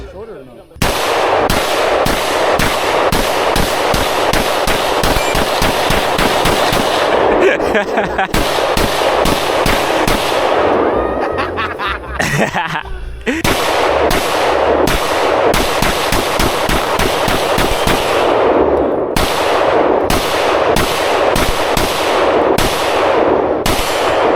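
Guns being fired in rapid, loud, relentless bursts, the shots running almost continuously for many seconds with only brief gaps between volleys.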